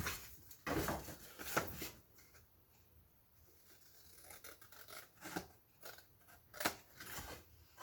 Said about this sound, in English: All it takes when you're trimming this is to cut just barely a hair